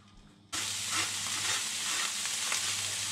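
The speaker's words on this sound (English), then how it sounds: "What we're doing now, we're frying the onions." A loud, steady sizzle of onions frying in a hot pan starts abruptly and continues without pause.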